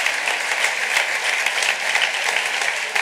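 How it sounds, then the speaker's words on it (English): Audience at a robotics competition award ceremony applauding, a loud, even, continuous wash of many hands clapping with no talk over it. "A big round of applause, please."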